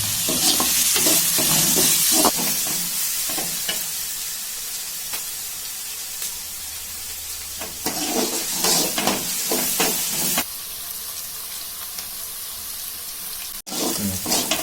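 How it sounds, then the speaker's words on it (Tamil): Onions sautéing in a pan for a goat intestine thokku, with a steady loud sizzle, bursts of stirring and scraping, and brief clinks. It is close up and has no talking. "நல்லா வெங்காயம் வதங்கி வந்துருச்சு."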